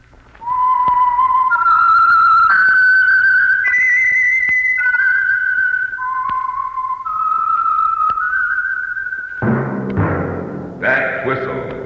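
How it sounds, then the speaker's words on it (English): A lone whistler performs the theme signal of the Signal Oil radio mystery program, a clear, loud melody of held, stepping notes across about nine seconds, ending in brighter orchestral or voice sounds. "That whistle is your signal for the Signal Oil Program, The Whistler."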